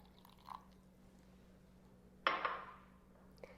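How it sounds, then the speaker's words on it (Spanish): Water is poured into a peanut butter dressing base in a kitchen, making a short, soft liquid splash after a faint earlier drip, quiet and close with no talking. "Enseguida vamos a agregar el agua,"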